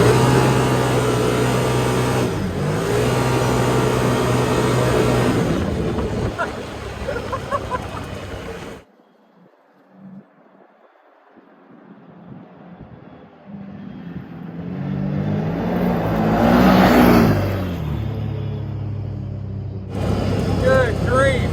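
A Can-Am Maverick 1000R side-by-side on a back road roars loudly, cuts to near silence, then revs and builds again toward a loud peak during a 0 to 60 run, with voices talking throughout.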